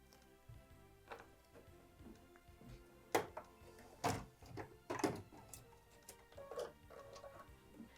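An embroidery machine stitches greenhouse roof detail lines on a Christmas mini project, giving quiet irregular ticks and clicks with a few sharper knocks, faint and close, with no voices.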